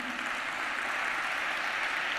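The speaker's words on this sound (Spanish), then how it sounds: "¿Querés aplaudir? Aplaudí." A church congregation claps steadily, a dense and even wash of applause from a crowd filling the room, with no voices rising above it.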